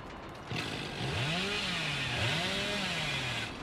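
Billy's chainsaw in Dead by Daylight starts up and revs, a loud buzzing engine whine that rises and falls in pitch over about three seconds before cutting off, with no voices.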